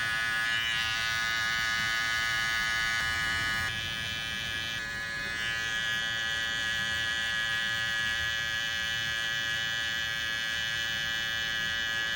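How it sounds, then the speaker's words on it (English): Hair trimmer buzzing steadily and close up while a barber cuts a taper fade, a continuous electric whine with slight shifts in pitch and no talking. "As you guys can see, I'm using it as a clipper."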